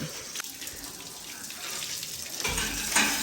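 Water runs steadily from a tap or hose while a sacrificial animal is washed, a continuous close rushing with a few splashes and a brief louder surge near the end.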